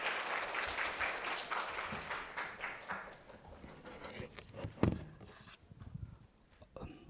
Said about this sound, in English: Please welcome him to the stage with a warm round of applause.